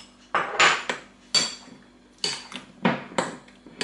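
A utensil stirs a strawberry tiramisu mixture with gelatin in a bowl, making a series of clinking scrapes and knocks in irregular bursts, close and fairly clear, with no talking.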